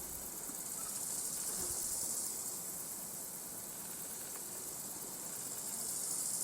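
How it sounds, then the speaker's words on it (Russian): Grasshoppers chirp in a green village meadow in summer, a steady, faint high-pitched trill that runs on unbroken with no voices. "кузнечики прямо как колокольчики звенят."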